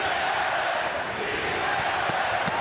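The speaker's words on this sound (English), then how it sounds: "Crowd chanting "Si se puede."" A boxing arena crowd at a lightweight title fight chants in unison, a loud, dense, sustained roar filling the hall with no distinct speech above it.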